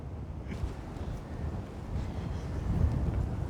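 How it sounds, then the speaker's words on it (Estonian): Strong gusty wind buffets the microphone in a steady low roar that builds slightly toward the end, with no talking. "Tuul on räme praegu."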